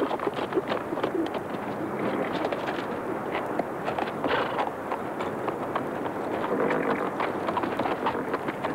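Horse hooves clip-clop steadily along a mountain trail in a 1994 frontier setting, a continuous busy rhythm of several animals moving together at moderate distance, with birds and outdoor bustle mixed in.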